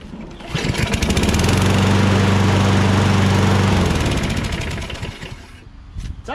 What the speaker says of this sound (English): It's actually a pretty good mower.